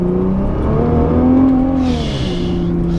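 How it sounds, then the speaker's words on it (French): Nissan GT-R engine revving hard under acceleration, a loud, steady rising drone with climbing harmonics and a brief high whoosh near the end, no talk. "On sent que la voiture est lourde et pourtant elle accélère sans effort."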